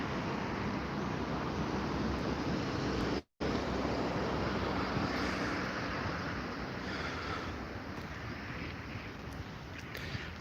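Waves surge and wash at the Grozny Sea during a storm warning with strong wind, a loud, continuous broadband roar of surf and wind buffeting, briefly cut out once.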